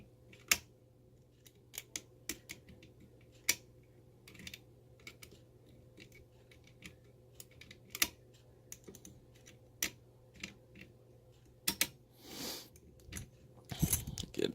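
Sharp, faint mechanical clicks from a Yale lever lock being picked, spaced irregularly across a quiet background with a steady low hum, a few louder snaps and a brief rustle near the end.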